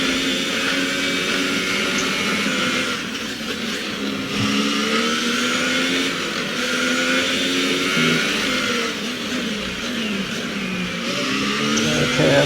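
A Formula 1 car's engine screams steadily around the track during free practice at Brazil in the F1 2018 video game, loud and continuous with shifting pitch as it revs, alone without talk.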